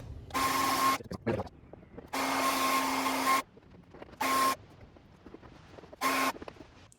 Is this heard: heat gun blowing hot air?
yes